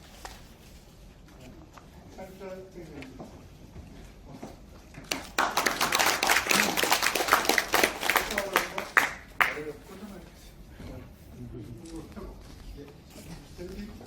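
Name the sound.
audience clapping at award ceremony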